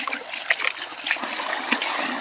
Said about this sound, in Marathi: तर आता अशा पद्धतीने पाणी लावून दिलं आहे